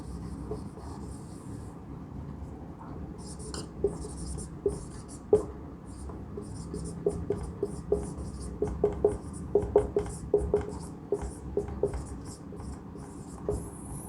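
Pen writing by hand on paper, close and quiet, with scattered scratchy strokes and taps that come in short bursts after a near-silent start.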